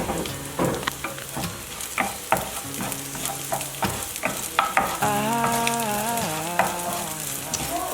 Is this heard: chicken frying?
yes